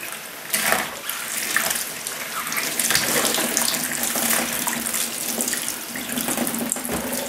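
Tap water runs steadily into a sink while soap is rinsed out of paint brushes, a loud continuous splashing rush lasting the whole time with slight shifts as the brushes move under the stream.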